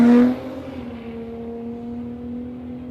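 A big Ford drag car with a turbocharged Barra engine at a dragway gives a loud roar at first, then drops to a sustained droning engine tone as it pulls away down the strip.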